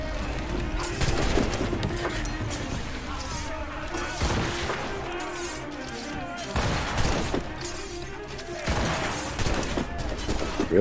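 Ship cannons fire in heavy volleys during a naval battle in Assassin's Creed: Rogue, with several loud booming bursts through the stretch, spaced every couple of seconds, while someone talks over the din.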